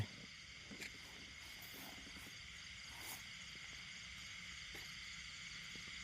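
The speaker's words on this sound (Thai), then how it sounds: "อู้เสียงกบร้องระงมเลยเนาะ" Many small frogs call together at night in a wet field, a dense, continuous chorus of overlapping croaks that hangs steadily in the background with no talking.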